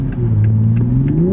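A 2021 Toyota Supra sports car engine accelerates, a loud, close, droning note that dips slightly then climbs steadily in pitch as it revs up, with no talk.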